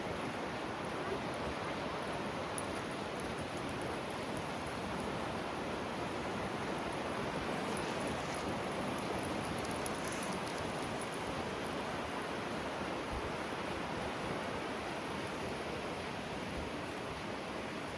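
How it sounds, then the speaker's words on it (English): Sea surf washing steadily onto a flat sandy beach at Filey on a misty day, a continuous broad wash of breaking waves with some wind buffeting, fairly close and unbroken throughout. "we are now down on Filey Beach."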